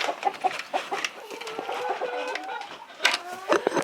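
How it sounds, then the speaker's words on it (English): Chickens clucking and squawking inside a large, well-ventilated backyard chicken coop on an off-grid homestead in Spain, a busy, overlapping stream of close bird calls from start to finish with some background noise. "Here's my chicken coop."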